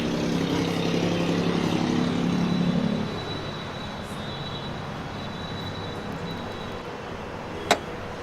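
A 1.5 litre K15C petrol engine in a 2024 Maruti Brezza LXi runs as a steady, close mechanical hum. It is louder for the first three seconds, then settles into a quieter idle, with one short click near the end.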